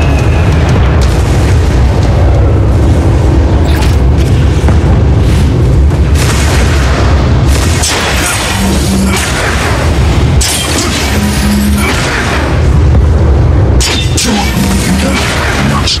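Explosions blast an armored core in the Green Lantern: Rise of the Manhunters video game on Xbox 360, a dense, very loud run of deep booms and crashing bursts that continue without break.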